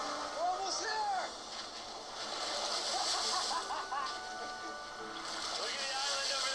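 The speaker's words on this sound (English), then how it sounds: "We got water splashing on both sides" Ocean water splashing and washing around rocks on both sides of a small island, a broad continuous rush with surging waves, while people talk over it.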